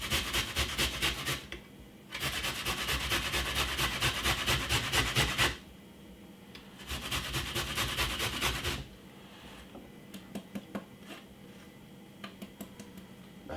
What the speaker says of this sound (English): I peel the ginger, and what we're gonna do is to use this side of the grater, and I'm gonna just grater it